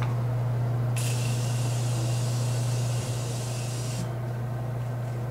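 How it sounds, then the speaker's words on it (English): A single sustained spray of fine mist hisses for about three seconds over a steady low electrical hum. "the best setting spray mist that will last you all day"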